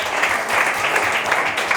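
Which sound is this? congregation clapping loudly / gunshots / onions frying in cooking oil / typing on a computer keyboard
congregation clapping loudly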